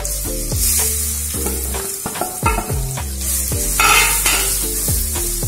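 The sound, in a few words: coconut sautéing in ghee for banana halwa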